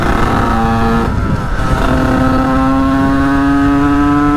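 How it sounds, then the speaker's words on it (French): A Bidalot 90 motorcycle accelerating hard on the road, its engine pitch climbing steadily through a gear, dipping briefly at a shift before rising again, loud and close with no talk. "Ouais que la moto elle arrache quand même hein"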